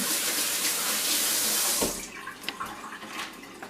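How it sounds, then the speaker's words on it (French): Hands being washed under a running kitchen tap, a steady close rush of water that breaks into splashing and dribbles as the hands move through the stream, with no talk. "Donc là, je me lave les mains."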